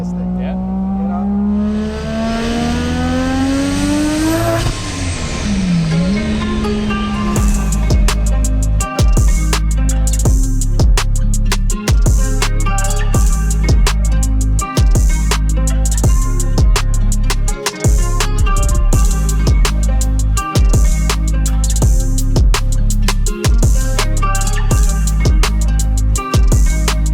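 A Mazda FB RX-7 with a 20B three-rotor engine and 80mm turbo revs hard, first a rising whine then rapid sharp rev bursts and crackles, loud and close throughout, with voices talking over it.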